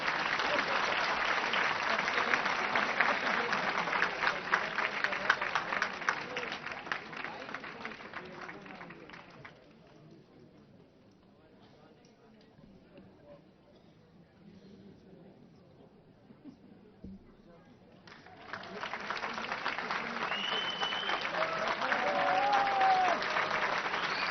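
A large crowd at a devotional bhajan evening claps loudly for about nine seconds. The clapping fades to near quiet with a faint murmur, then a second strong wave of applause swells up and continues to the end.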